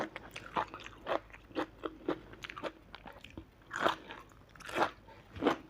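Crisp, sweet fresh vegetable bitten and chewed up close, giving a series of loud, sharp crunches in an uneven rhythm with no talking.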